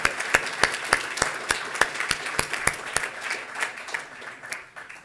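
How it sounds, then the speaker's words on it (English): An audience at an awards event for most fundable companies claps for bronze winners, a burst of crisp applause that is loud at first and gradually thins and fades out over a few seconds. "How about another round of applause for the bronze winners?"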